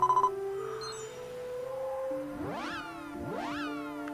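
Electronic sounds from the game Dragon Quest X: a sustained tone, then two rising whooshing sweeps as a mount speeds away, fairly quiet with no talking.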